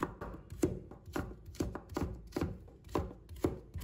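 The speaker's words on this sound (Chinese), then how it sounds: "再切成丝" A knife cuts a carrot into strips on a board in a fast, even run of about a dozen close, distinct chops that keep a steady rhythm.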